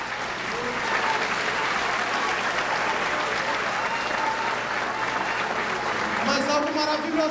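A church congregation applauding, continuous dense clapping at an even level, with voices rising faintly toward the end.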